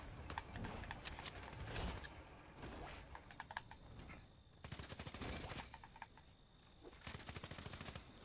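Gunfire in the Fortnite battle royale video game, with bursts of rapid shots in clusters separated by brief lulls, set against a busy game soundscape with steady background noise and no clear talking.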